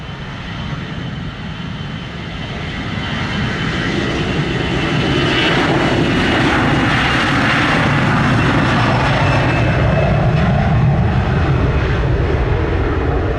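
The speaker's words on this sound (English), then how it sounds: "Clear for takeoff, Delta 1928." A Delta passenger jet taking off from the runway at Sangster International Airport in Montego Bay, Jamaica, a loud, steady, broadband engine roar that swells over several seconds and holds heavy and close.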